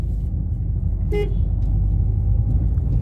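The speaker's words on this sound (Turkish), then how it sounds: "Kornamızı duymuş olduk." A single short Peugeot 301 horn toot rises over a loud, steady engine rumble from inside the moving car.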